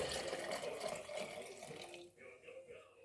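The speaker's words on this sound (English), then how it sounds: "Let's just pour this in our measuring cup and see what's left." Homemade chicken broth is poured into a measuring cup, giving a steady liquid splash and trickle that runs for about two seconds and then thins into quieter dribbles and drips.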